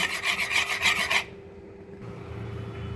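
Melted sugar caramel is stirred briskly in a pan, making rhythmic loud scraping strokes for about a second before stopping, leaving a quiet background hum with no voices.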